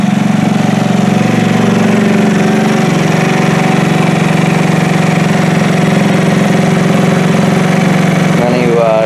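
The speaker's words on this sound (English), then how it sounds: "Definitely sounds like it's got a little more grumble to it." Buddy 125 scooter engine idling with a Prima exhaust, a loud, steady, close putter that holds an even throb throughout.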